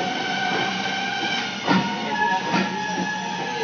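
A passenger train runs steadily, a sustained rail rumble with a faint clack of wheels, heard alone without voices.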